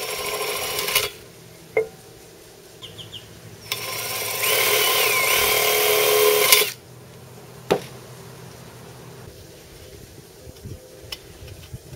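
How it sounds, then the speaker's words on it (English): Power drill boring screw holes through a metal can for a woodgas stove, with two whining bursts of drilling, the second longer and louder, separated by quiet pauses and a few clicks. "Now go ahead and drill your screw holes."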